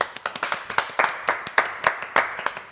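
A small group claps in a TV studio audience, sharp distinct handclaps in a steady uneven rhythm, close and fairly loud with no talk.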